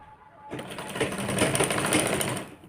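A sewing machine stitching a size-30 belt blouse starts up after a brief quiet moment and runs in a steady, loud, close whir until the end.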